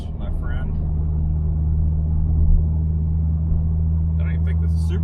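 A 650 HP supercharged C7 Corvette Z06 drones with a steady low engine rumble from inside the cabin while cruising, with a voice speaking briefly at the start and again near the end.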